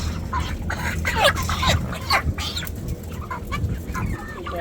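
Chickens cluck and squawk at a poultry farm sale, several birds calling in short overlapping bursts against a steady background of farmyard noise.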